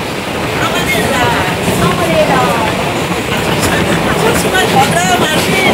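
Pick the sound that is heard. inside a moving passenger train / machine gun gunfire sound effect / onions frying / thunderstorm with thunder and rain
inside a moving passenger train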